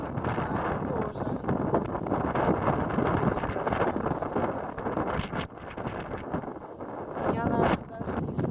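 Strong seaside wind of about 21 metres per second on a beach, a continuous loud roaring buffet across the whole stretch with surf noise mixed in and no clear talk.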